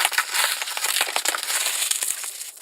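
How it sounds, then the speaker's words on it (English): Saran wrap plastic film crumpled close to a microphone, giving a dense, continuous crinkling and crackling with sharp little snaps throughout, loud and alone. "You got to love how saran wrap sounds on microphones."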